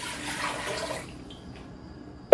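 Water for pickle brine is poured into a pot, starting with five cups, making a steady splashing rush for about a second before it stops, followed by quiet and a brief knock at the end.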